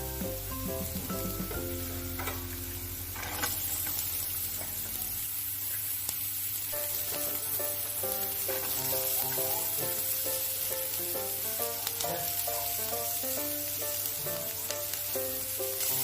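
Beans and capsicum frying in a hot pan, a steady broadband sizzle holding throughout with occasional faint stirring clinks and no talk.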